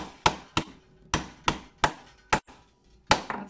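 Metal is hammered over a circle to shape a moon-shaped charm for hoop earrings, with seven sharp, close hammer blows at a steady, unhurried pace and a slight ring after each strike.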